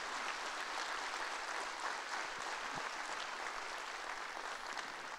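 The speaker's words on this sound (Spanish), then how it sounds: "dele fuerte ese aplauso" A church congregation at a Sunday service claps in a steady, continuous wash of applause, fairly distant and soft, with no speech over it.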